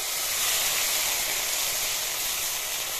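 Spice paste of raw turmeric, chili, garlic and ginger hitting a hot pan of frying potatoes, giving a steady, loud, close hiss of sizzling oil that holds evenly throughout with no talk.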